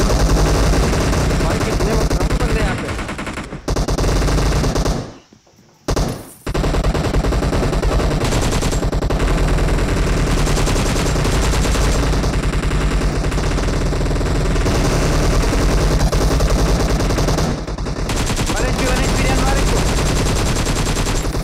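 Dense video-game gunfire, with rapid machine-gun bursts and repeated shots, goes on almost nonstop and is loud and close, broken by a brief gap. Speech is faintly mixed in.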